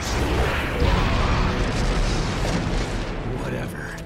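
Phoenix Fire Jutsu fire attack in the Naruto Shippuden Ultimate Ninja Storm 4 video game, a loud, sustained booming roar of flame bursts lasting a few seconds, with a voice shouting over it.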